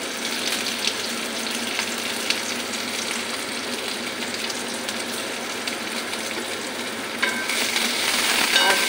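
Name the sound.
chopped onions frying in hot oil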